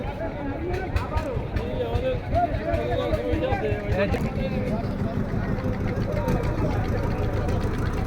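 A trawler chugs slowly along a misty river toward a mangrove forest, its low engine drone continuous and close. Someone talks over it throughout, with a faint murmur of other voices in the background.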